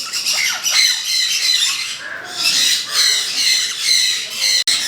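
Loud, harsh blue-throated conure squawks repeating in bursts, close up, with a brief gap midway and no talking.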